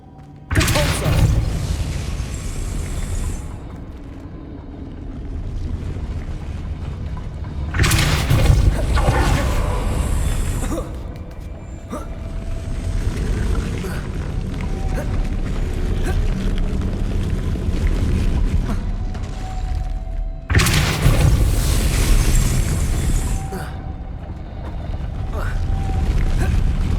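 Deep booming bursts from the Depulso force spell in Hogwarts Legacy, several heavy blasts with rumbling tails over continuous game music and ambience, and a voice calling out spell names.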